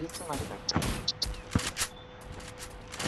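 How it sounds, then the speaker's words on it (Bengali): Pistol gunfire in a first-person shooter video game: a handful of sharp single shots spaced irregularly, a fairly loud one near the middle, under players' chatter. "ও হিল পিস্তল চালাচ্ছে।"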